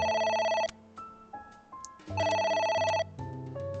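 In the video game AI: Somnium Files, a telephone rings in two bright electronic bursts separated by pauses, with softer melodic game tones stepping between them, moderately quiet and with no voices.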